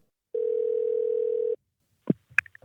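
A steady telephone tone sounds for about a second at the start of an interview phone call, followed by brief clicks and handling noises, close and clear with no talk.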